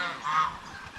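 A single brief, nasal honking quack from farm ducks, a short call with a soft fade.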